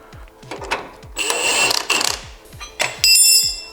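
Bolts being tightened on a car's wheel adjustment, a quick run of ratcheting clicks and metallic rasps in rapid bursts, close and fairly loud.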